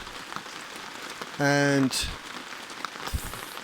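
Steady rain falls in a Taiwanese jungle, a dense broadband patter throughout with a brief voice and a short tonal burst near the middle.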